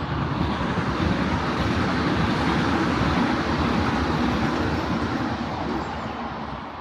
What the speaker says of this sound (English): I guess we have to wait for this train to pass before we start talking